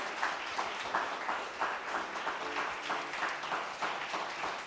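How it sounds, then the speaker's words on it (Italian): A small television studio audience applauds for a beauty pageant contestant, dense steady clapping from a modest crowd, close and fairly loud, with rhythmic swells. "Un applauso per lei."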